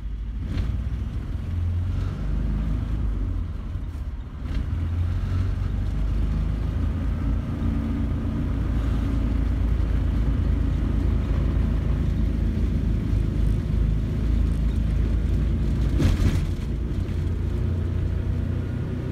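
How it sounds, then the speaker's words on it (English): A Renault car fitted with a 670 cc Predator V-twin engine drives at speed, giving a steady, continuous low rumble with wind buffeting throughout and no talking. "the car is doing fairly good as far as speed goes"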